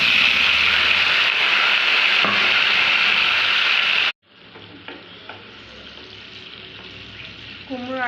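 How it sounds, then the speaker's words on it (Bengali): Pumpkin and potatoes fry in a pan with a loud, dense sizzle that suddenly drops to a quieter crackle, broken by light scraping and clinks from stirring. "কুমড়োর আলুগুলো মোটামুটি ভাজা হয়ে গেছে"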